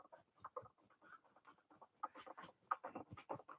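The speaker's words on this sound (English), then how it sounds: "I hear the chickens." Several chickens cluck outside a workshop in a quick, irregular series of short calls, fairly close and alone with no talk.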